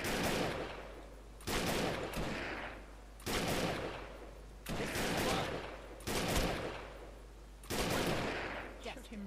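Gunfire in the co-op shooter video game ChaosNova: six loud bursts of rapid shots, each lasting about a second, separated by short gaps, up close.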